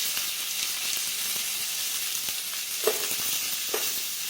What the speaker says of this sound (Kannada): ಈಗ ಕೊಬ್ಬರಿನ ಸಹಿತ ನಾವು ಹಾಕ್ಕೊಂಡು ಫ್ರೈ ಮಾಡ್ಕೋಬೇಕ್ರಿ.